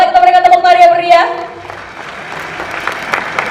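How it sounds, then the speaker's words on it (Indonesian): Audience applause at a Harley-Davidson launch event, following an announcer's amplified voice, steady clapping from a seated crowd filling the room at moderate volume. "Boleh kita berikan tepuk tangan yang meriah?"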